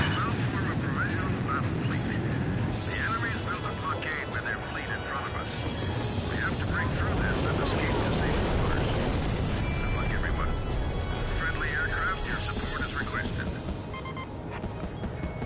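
Rockets fire and explode in the Ace Combat 5 flight combat game, with rumbling booms and whooshes over a continuous jet engine roar, dense and loud throughout, with radio-style chatter mixed in.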